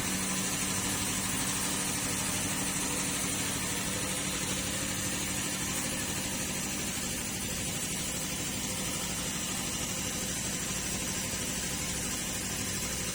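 A Yanmar ViO55 mini excavator's engine runs at a steady idle, a constant close mechanical drone and vibration with no change in pitch or load.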